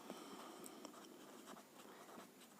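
Pen scratching across paper while a geometry proof about parallel tangents to a circle is written out, a continuous close, soft scribble with short strokes and brief pauses, no speech.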